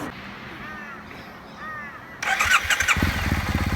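Motorcycle engine during clutch and front-brake take-off and stop practice, quiet at first under crow caws, then a loud close revving burst and a steady rumbling run.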